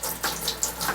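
Beer wort for an all-grain Irish stout runs from a siphon through a mesh strainer into a fermenter, making a continuous close splashing, trickling pour with no talking.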